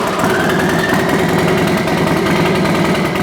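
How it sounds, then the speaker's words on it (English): A turbocharged Harley-Davidson custom bagger runs loud and close, a dense steady engine roar with a rising whine over it, continuous with no talking. "You can hear how loud the turbo is."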